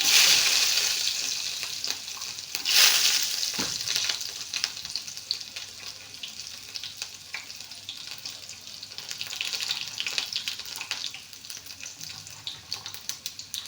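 Mustard seeds, urad dal and garlic fry in hot oil with a loud, hissing sizzle that flares sharply near the start, then settles into a steady crackle with scattered pops and occasional stirring scrapes, with no talking.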